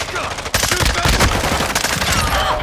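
Rapid gunfire in the video game Call of Duty: Modern Warfare II comes as dense, loud bursts of close shots cracking in quick succession for several seconds.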